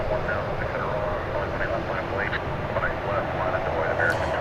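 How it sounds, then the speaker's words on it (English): An Atlas Air Boeing 747-8 jet airliner arriving from Anchorage at DFW Airport gives a steady, broad roar throughout, distant but continuous, with a voice faintly talking over it. "Hey, we have a 747 coming in. This is going to be Atlas Air Flight 8106, a 747-8 from Anchorage."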